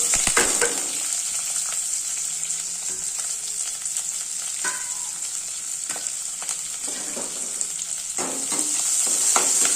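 Small shallots, garlic and curry leaves sautéing in sesame oil with mustard, fenugreek, cumin and a dried red chili, a loud continuous close-up sizzle broken by irregular spatula scrapes and taps, without speech.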